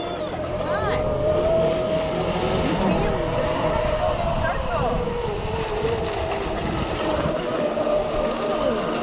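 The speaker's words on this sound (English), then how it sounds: "Boys out here running these boats." Battery-powered RC model speedboats, one a Miss Geico racing replica, run on open water outdoors. Their high electric motor whine rises and falls as they pass, with wind noise and voices talking nearby.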